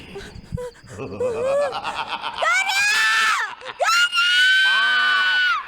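A person lets out long, loud, high-pitched screams, close up, with brief breaths and vocal sounds between them.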